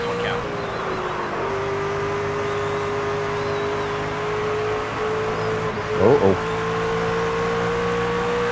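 Stock car engine from the NASCAR 25 racing game holds a steady, loud drone throughout, with a brief rising rev and a speaking voice near the end.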